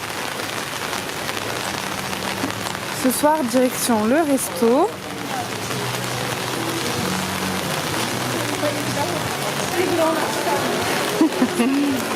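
Steady rain pattering down throughout on Koh Samui, Thailand, during a typhoon, with a voice speaking briefly partway through and other talk faintly in the background.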